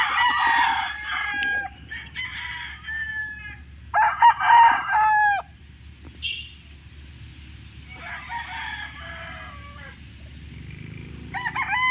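A 5K sweater gamecock crows loudly several times at close range, joined by other roosters crowing more faintly in the background.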